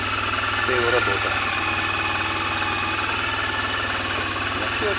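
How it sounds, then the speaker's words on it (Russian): Tuned replacement engine of a Suzuki Burgman 650 scooter idling steadily and close, an even, continuous mechanical hum with light knocking, while someone talks over it. "Запустил двигатель. Это Suzuki Burman."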